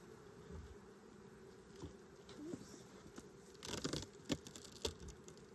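Bees buzz faintly around a hive during a honey super inspection in a soft, continuous drone, with occasional closer buzzes and light rustling or crinkling.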